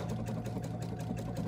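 A Baby Lock Solaris sewing machine doing bobbin work, its needle stitching in a fast, even mechanical chatter with a steady motor hum, close and continuous with no talk.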